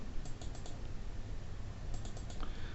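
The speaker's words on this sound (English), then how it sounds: "in this case I'm double clicking." Computer mouse buttons clicked while drawing with the pencil tool in Inkscape, with a quick cluster of small, sharp clicks early on and another cluster near the end, close and faint against a steady background hiss.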